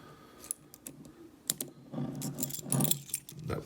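A small handcuff key is handled and pushed into a pair of handcuffs, making a run of light metallic clicks and jangles, sparse at first, then busier and louder, close up with no talking.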